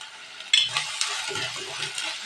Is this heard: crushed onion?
yes